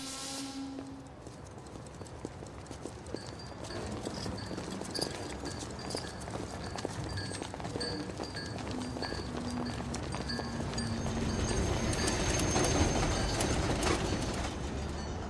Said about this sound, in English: The next morning we caught a tram all the way into the city.